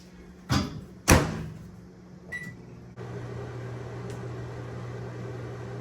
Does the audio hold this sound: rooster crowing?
no